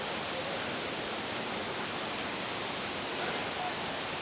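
Steady broadband rush of water from a waterfall feeding a placid pond beside an ancient temple on a forest trail in Chiang Mai, Thailand, continuous and even throughout with no breaks.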